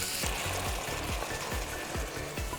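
Carrots and parsley stalks sizzle in a hot pan as red wine goes in to deglaze, a dense steady hiss with repeated stirring scrapes about every quarter second, fairly faint.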